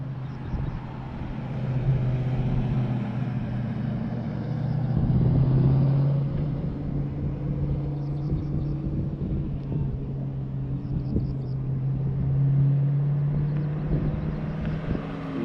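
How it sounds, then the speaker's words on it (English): Loud race cars run a track during a 2021 Memphis session. A droning engine roar swells and fades as cars pass at a moderate distance over a constant low rumble, with no voices. "Another one of the loud cars."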